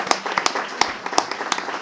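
At a literature panel discussion, an audience claps for a speaker. The claps are sparse, uneven and fairly close, and come as distinct sharp smacks rather than a dense roar.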